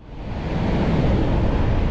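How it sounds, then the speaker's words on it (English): An ocean wave rushes in and swells into a broad, loud wash of surf at Port Stephens, New South Wales, heard from a kayak, mixed with wind buffeting the microphone, with no voices. "Right in behind these waves."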